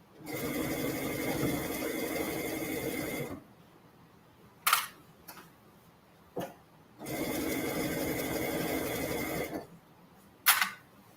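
A sewing machine runs top stitching on kids' boardshorts in two steady bursts of several seconds each. Short clicks and handling noises fill the quiet gaps between them.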